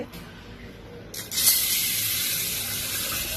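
Water pours into a pot of pulses set to soak. A close, steady rushing gush starts after about a second of quiet and keeps flowing to the end.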